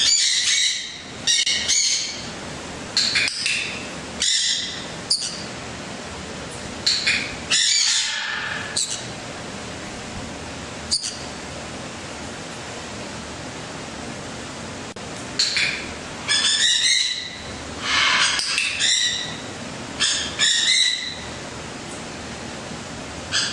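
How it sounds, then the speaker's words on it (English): A zookeeper's training clicker gives a few sharp, isolated clicks during a tamarin training session, spaced seconds apart and partly buried under repeated high, shrill squawks and chirps from the tamarin. "You're going to hear her use the clicker as a sort of encouragement"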